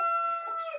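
A backyard rooster crows loudly and close by in a short, harmonic fragment that is cut off abruptly.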